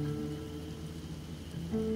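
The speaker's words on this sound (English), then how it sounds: "So hopefully the rain is no longer going to be burning us alive." Steady rain falls in a swamp in the game Kenshi, a soft continuous hiss under a constant low musical drone, with no voices.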